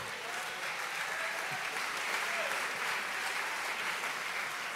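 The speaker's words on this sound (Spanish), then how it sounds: "Dale un aplauso al Rey bendito" Steady applause from a church congregation at a regional retreat service, a dense, even wash of clapping held at constant moderate volume throughout with no voices over it.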